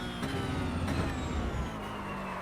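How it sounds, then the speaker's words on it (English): A steady Porsche Cup race car engine drone with harmonic whine plays continuously in iRacing at Twin Ring Motegi, cruising, with a few brief clicks and transients. "I think the engine's still a bit too loud."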